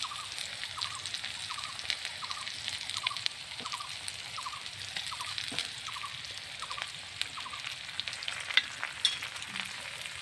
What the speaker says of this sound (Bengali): ভাজা হবে, তারপরে উল্টিয়ে দিব।